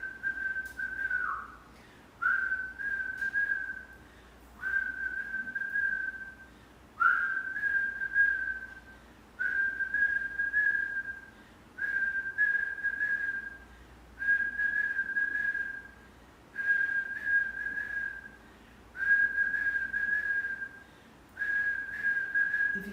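Repeated whistling breaths in a kundalini yoga practice: about ten steady, sustained whistle tones, each a couple of seconds long and separated by brief pauses for inhaling, at moderate volume in a quiet room.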